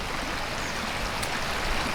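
A brook flowing outdoors makes a steady, close rushing wash of water, even in loudness throughout, with no voices.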